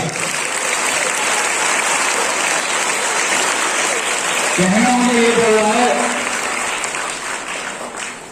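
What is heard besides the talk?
applause for students at a school function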